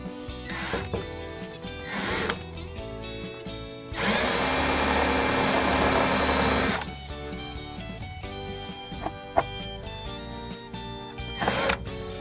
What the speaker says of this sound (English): take it over to your tractor and drill holes through the fender well